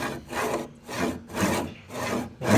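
A hand saw cuts a wooden tenon in slow, even back-and-forth strokes, about four rasping passes with short pauses between them, close and clear, with no talk.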